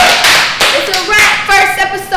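A small group of people clapping at a wrap, quick close claps mixed with voices and a whoop.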